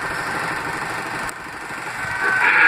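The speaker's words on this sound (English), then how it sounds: "Keep the engine idling." A motorcycle engine idles at the curb beside construction barricades, a steady low rumble with a constant hum, rising slightly louder near the end, with no one speaking.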